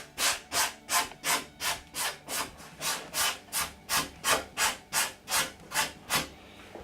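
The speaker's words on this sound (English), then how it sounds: "lastly I'll go across to a very fine gauze for the finishing touch" Wood is sanded with very fine gauze in a steady series of about eighteen rhythmic back-and-forth rasping strokes, close and evenly paced, with no voices.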